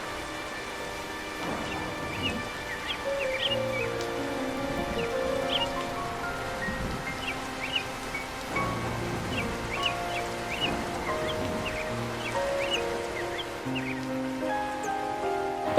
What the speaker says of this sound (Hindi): ऊपर से ये बारिश, न जाने क्या होगा।